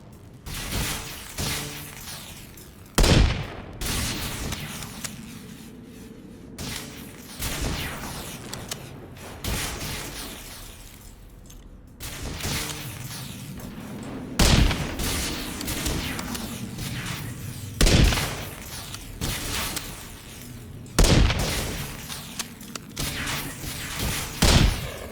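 Rifle shots in the video game Sons of the Forest ring out as several loud, isolated booms spaced seconds apart, set against a continuous bed of game ambience and rustling movement.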